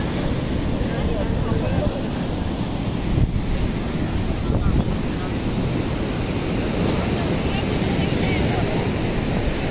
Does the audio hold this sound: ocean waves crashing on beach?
yes